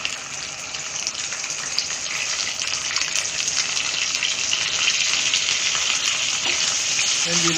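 Onion paste fries in a pan over a medium flame, giving a loud, continuous sizzle that holds steady and grows slightly fuller over several seconds, with no voices.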